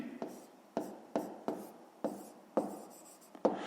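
Pen writing on paper while solving a fifth-grade math exercise: a series of close, quiet scratching strokes in short bursts, roughly a stroke every half second, with no talk.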